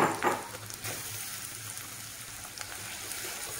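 Onions sizzle and crackle in a hot pan with a steady frying hiss, with a few louder clatters near the start.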